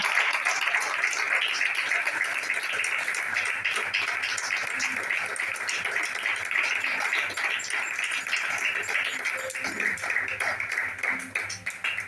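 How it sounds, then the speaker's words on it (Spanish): Church congregation clapping during a Spanish-language service, a sustained wash of hand claps at a steady, fairly loud level, with voices mixed in, tapering slightly near the end. "hágale fuerte las palmas a Cristo, porque esto es así"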